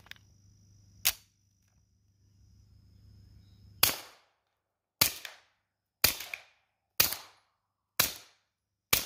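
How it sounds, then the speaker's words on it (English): A Rock Island 1911 pistol in .45 ACP fires through a SilencerCo Hybrid 46 suppressor, giving sharp, close, suppressed cracks: one early shot, then after a pause five more in a fairly even rhythm, each with a short decaying tail. "Rock Island 1911 in 45 with a SilencerCo Hybrid 46 suppressor."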